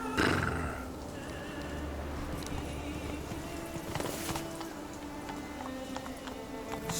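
A horse in the video game Witcher 3 gives a clear whinny at the start, followed by clip-clopping hooves and outdoor game ambience that carry on at moderate level.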